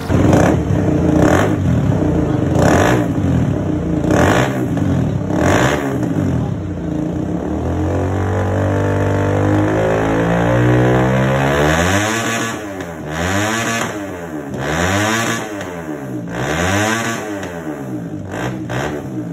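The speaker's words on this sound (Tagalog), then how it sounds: "tapos na natin gawin itong CBR 150 na nagpo-full system exhaust. Then ang ginamit natin sa kanya is yung Carbon 370" A Honda CBR150R motorcycle fitted with a Carbon 370 full-system exhaust is revved hard at close range, first in quick blips, then in a long sustained climb, and finally in a rhythmic series of rising and falling revs.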